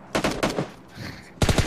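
Rapid bursts of automatic gunfire from PUBG Mobile, a few quick volleys close and loud, broken by a short lull of muffled game noise before another sharp burst.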